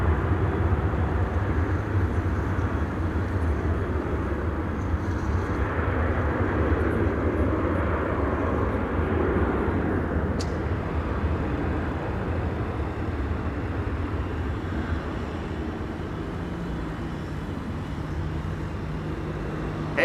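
An airplane at Amsterdam Schiphol Airport gives off a steady, broad engine roar heard from a distance that swells and then gradually fades, with no voices over it.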